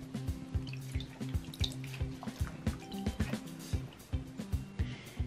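Pothos leaves being rinsed in clear water after an insecticide dip, with steady splashing, dripping and running water close by, busy and continuous with no talking.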